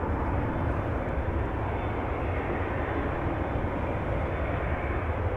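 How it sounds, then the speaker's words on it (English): A Singapore Airlines Boeing 787 Dreamliner takes off from runway 24 at Amsterdam Schiphol, heard as a steady broad engine roar at a distance, dense and unvarying with no voices. "Singapore Dreamliner taking off from runway 24."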